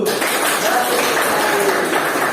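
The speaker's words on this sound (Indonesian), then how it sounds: "Oke, kasih aplaus dulu." A school audience applauds during a classroom physics lesson on electromagnetic induction, a steady wash of clapping hands sustained throughout, dense and even with no pauses.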